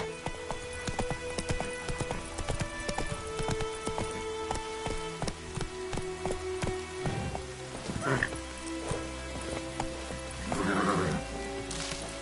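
In The Witcher 3 on PS5, the horse Roach gallops with a fast, rhythmic clatter of hooves over steady rain. A neigh rises near the end, all heard close and loud.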